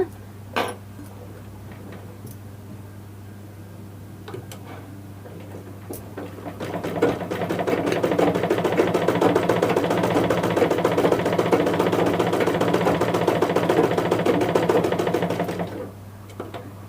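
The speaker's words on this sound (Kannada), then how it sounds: "ಇನ್ನೊಂದು ಹೊಲಿಗೆ ಹಾಕೋಣ" A sewing machine stitches a seam in a tailoring class, running in a steady, dense rattling whir for about eight seconds after a few scattered clicks, then stopping, close by over a constant low hum.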